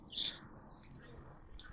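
Birds by a small pond near a railway give a bright, brief chirp at the start, then fainter twitters over a low outdoor rumble.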